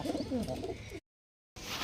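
Andhra pigeons coo in a loft, a run of close, throaty calls rising and falling before a sudden cut to silence, then the ambient loft sound returns briefly.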